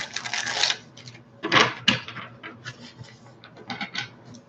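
Tarot cards shuffled by hand for a reading, giving soft papery riffles and slaps in irregular bursts, close and fairly quiet, with no talking over them.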